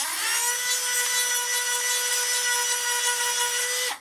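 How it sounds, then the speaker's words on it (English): A Dremel rotary tool cleaning out a river cane flute gives a steady, close, high-pitched whine with a strong tonal hum, running evenly for about four seconds before cutting off abruptly. "I like to use a rotary tool or a Dremel for that."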